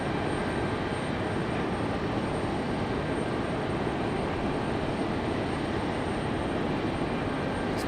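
A propeller plane at Raleigh Durham airport drones steadily, with a continuous broad roar holding at an even loudness from start to finish and no voices.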